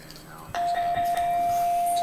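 A single sustained electronic school bell tone rings steadily for a couple of seconds, clear and fairly close, over a quiet room.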